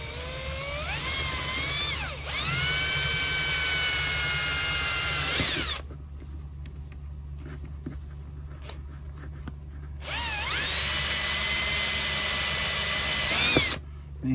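A power drill bores out holes in a 30-amp, 125-volt RV power inlet on a trailer, whining loudly in two long bursts with a quiet pause between them and a rising pitch as each run starts.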